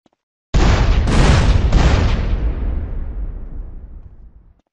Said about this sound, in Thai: โดยการยิงเครื่องปั่นไฟทำให้มันระเบิด